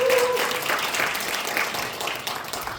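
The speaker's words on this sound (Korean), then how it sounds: "스스로에게 박수 한번 치실까요?" Audience applause fills a lecture hall at a church talk on empathetic communication, steady dense clapping throughout, loud and close, with no voices over it.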